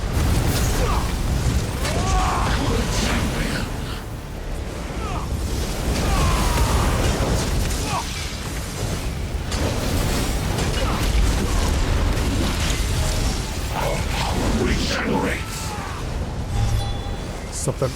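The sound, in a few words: volley being fired in video game Elder Scrolls Online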